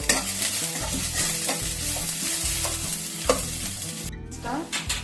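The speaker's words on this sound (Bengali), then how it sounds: "পেঁয়াজটা একটু ভেজে নেবো।" Chopped onion fries in oil in a pan with a loud, steady sizzle, broken up by the scrape and clatter of stirring, and no one speaks.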